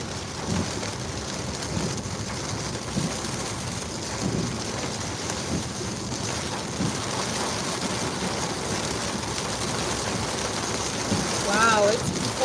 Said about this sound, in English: Wow, it's pouring down